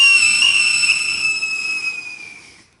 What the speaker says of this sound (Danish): Det rungede. Og der var så Toghorn